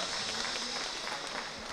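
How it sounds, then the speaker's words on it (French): Audience applause at an accordion dance show, a steady dense wash of clapping throughout with a faint crowd murmur beneath. "on entend les applaudissements"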